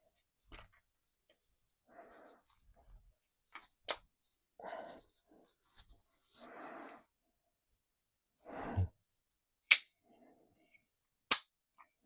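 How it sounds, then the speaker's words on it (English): An Alpha Foxtrot Romulus pistol is dry-fired several times, sharp isolated trigger snaps and clicks spaced seconds apart, close and crisp, with soft handling noises and quiet breaths between them. "I bet this is going to be a really raunchy trigger pull"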